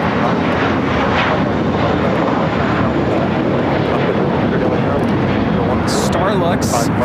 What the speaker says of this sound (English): Starlux, Flight 6 coming in from Taipei on the A350-900